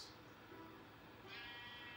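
Minecraft sheep bleating from the video game, a couple of short nasal bleats over a steady background hiss, fairly faint with no talk.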